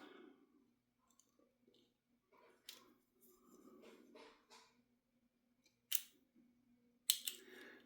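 Scissors snip off plugs on a Basher Kraton RC car, giving quiet, close cutting and handling noises followed by two sharp, distinct snips near the end.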